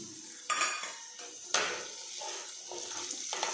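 Onions frying in oil in a kadai for kadai paneer as garlic, ginger and chilies go in: a spoon clanks sharply against the pan a few times over a faint, quiet sizzle.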